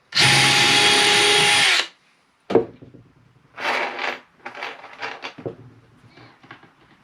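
A power drill whirs loudly for under two seconds boring pilot holes in 1x8 and 1x10 boards for a mink box, followed by clunks and scraping as the wood is shifted.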